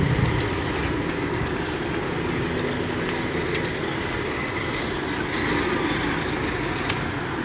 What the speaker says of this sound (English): That's where you hear that truck over there.